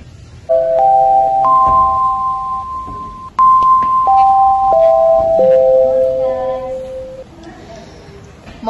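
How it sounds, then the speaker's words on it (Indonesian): A school bell at SMA Negeri 1 Purwakarta signals the start of class, playing a loud electronic chime melody of sustained stepped tones in two phrases, with faint background noise between them. "bel tanda masuk telah berbunyi."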